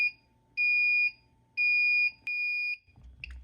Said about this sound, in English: It is just coming up as a supervisory, which just beeps at the local panel and does not set off alarms